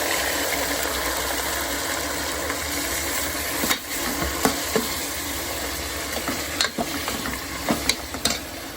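Marinated meat sizzles steadily in a pan of hot tempering, a dense continuous fry with occasional sharper crackles and spoon scrapes, close and alone with no voices.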